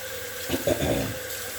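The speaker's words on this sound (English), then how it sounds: "So let's keep running the hot water in." Hot tap water runs steadily into a sink, a soft continuous rush with a brief splashy burst in the middle.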